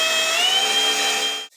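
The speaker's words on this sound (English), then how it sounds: "I'm going to go ahead and center punch these and drill them out, working my way up to 1/4 inch first" A power drill bores a 1/4 inch pilot hole in steel during a DIY Jeep Cherokee XJ rear bumper build, giving a loud, steady high-pitched whine that holds for about a second and a half before cutting off abruptly.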